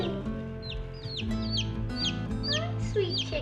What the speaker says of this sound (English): Hi, sweet chicken.